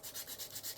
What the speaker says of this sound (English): This is a sander I got from